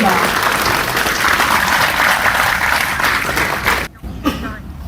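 An audience in a lecture hall applauds a former independence memorial director at a party-hosted talk, loud sustained clapping for about four seconds that cuts off abruptly, followed by a faint cough and room noise.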